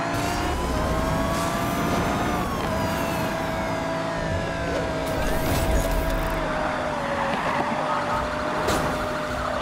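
Wailing police siren in the video game Need for Speed Rivals during a pursuit, rising and falling over a loud engine roar and traffic noise, continuous and close throughout.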